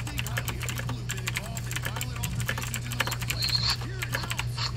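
Rapid clattering keystrokes on a computer keyboard during a GTA Online gaming session, close and continuous, with irregular bursts of clicks over a low steady hum.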